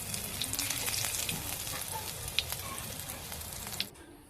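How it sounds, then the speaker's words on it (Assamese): Cloves, cardamom and cinnamon sizzle in hot oil in a kadai, a close, steady frying crackle with a few sharp pops, for a pigeon tomato curry. "তেল গৰম হৈ গ'লে এতিয়া লং ইলাচি, দালচেনিখিনি দি দিছোঁ"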